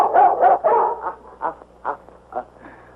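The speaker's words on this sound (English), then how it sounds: "get rid of that dog, Jim." A dog in a 1947 western barks alone, first in three loud close barks, then in sparser, softer single barks that trail off.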